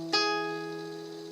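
A plucked string interval, a major third sounded an octave higher in a lesson on Celtic folk music, rings out once as a single clear strike and then decays steadily, with no talking over it.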